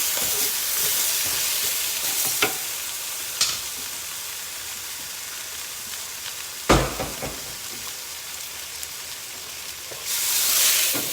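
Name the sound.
stirring frying potatoes in a pan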